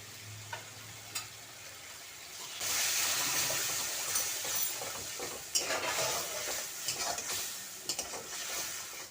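Spices and raw banana sautéing in oil after ginger, chili paste, turmeric, salt and ground spices go in, quiet at first, then a sizzle rises and holds with scattered stirring clatters and pops.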